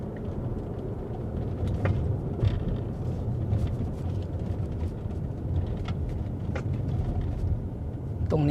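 An Omoda C5 EV electric car climbs a steep mountain road behind another vehicle, heard from inside as a steady low rumble of tyres and road noise with a few faint clicks.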